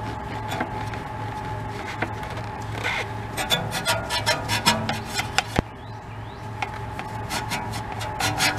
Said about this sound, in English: Going to town with a wheel woolly. Getting these barrels nice and clean.